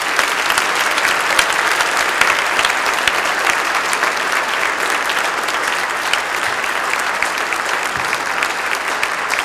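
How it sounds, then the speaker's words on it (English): A church congregation at a First Communion Mass applauds the children, a dense, steady round of clapping from a large crowd that fills the space evenly for the whole stretch, with no speech over it. "let's give them a warm round of applause"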